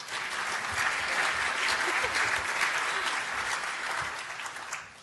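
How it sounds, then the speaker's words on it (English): Sustained audience applause for a panel at a regional economic summit, a dense wash of clapping from a large crowd that holds steady for about five seconds before tapering off at the end. "Let's give the entire panel a round of applause."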